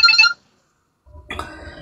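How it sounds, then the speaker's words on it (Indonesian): A telephone rings with an incoming call during a televised discussion, a short electronic ring tone that stops, followed after a pause by quiet background murmur. "Ada teleponnya itu masuk."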